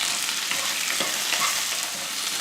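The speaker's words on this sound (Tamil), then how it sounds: "வெங்காயம் இந்த அளவுக்கு பச்சை வாடை போகிற வரைக்கும் வதக்கிட்டு இதில் தக்காளி சேர்த்துக்கலாம்." Tomatoes sauté in a pan for a mutton curry masala, giving a steady, dense sizzle of frying with faint stirring scrapes underneath, close and continuous, with no voices.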